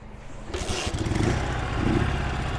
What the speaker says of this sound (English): We're gonna try to give it a start with a kickstart, because we don't have an electric start on this one.